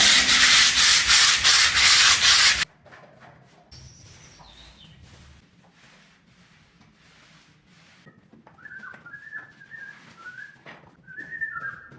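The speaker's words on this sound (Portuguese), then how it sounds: "Aqui não vai ser nem na máquina, tá? Vai ser na lixa mesmo, normal, manual" Hand sandpaper rubbing over a plastered wall treated with PVA filler, loud rapid scrubbing strokes for about two seconds, then stopping, leaving quiet room noise with a few faint bird whistles.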